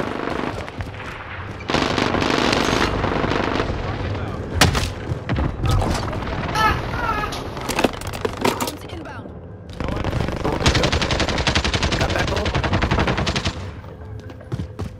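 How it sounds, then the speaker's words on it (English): Gunfire in a shooter video game on Fortune's Keep, with loud bursts of automatic fire and single shots coming in waves, broken by short lulls. "Who's shooting at who?"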